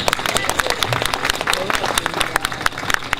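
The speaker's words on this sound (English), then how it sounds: "Give yourself a big round of applause," A crowd at an outdoor candlelight vigil in Little Saigon, Westminster, California, claps with dense, irregular applause close by, and a voice speaks faintly underneath.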